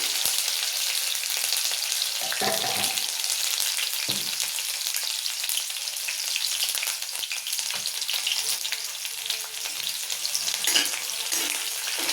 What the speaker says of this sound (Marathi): तेल झाले गरम, घेते लसूण टाकून